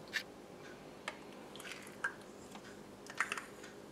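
Sour cream is stirred into blueberry banana muffin batter, making faint, soft squishing and occasional light clicks from the spoon in a quiet kitchen.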